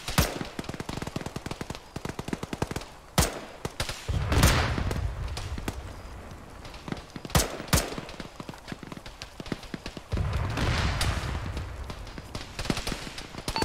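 Gunfire in a military video game: repeated sharp rifle shots, some single and some in quick runs, with a few louder close cracks and occasional heavier rumbling blasts.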